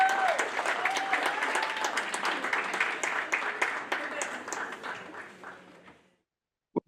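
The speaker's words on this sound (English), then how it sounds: "Let's give them a New York Medical College welcoming cheer" An audience at a New York Medical College speech-language pathology white coat ceremony gives families a welcoming cheer, with sustained clapping and some voices for about six seconds, then fading out to silence.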